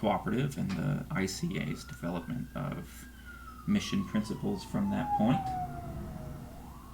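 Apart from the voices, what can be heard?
police siren outside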